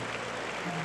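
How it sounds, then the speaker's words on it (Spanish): A church congregation claps together in dense, continuous applause, steady and fairly loud throughout the short burst with no break and no voices. "Dale más aplausos al Señor."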